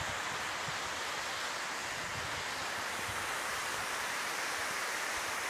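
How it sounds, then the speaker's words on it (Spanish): A river waterfall roars in a constant, full wash of rushing water, close and unbroken throughout. "Miren, esta chulada de caída de agua."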